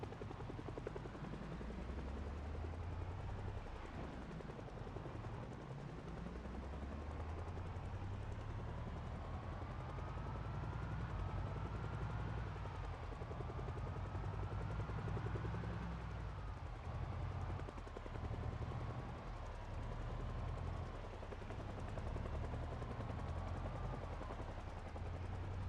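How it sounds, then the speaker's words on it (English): A helicopter in a survival video game flying steadily nearby, with a continuous rotor thrum and engine whine that swells and fades over nearly half a minute, no talking. "No, I didn't spawn the helicopter."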